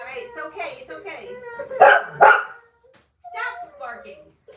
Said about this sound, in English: Stop barking. Enough of that.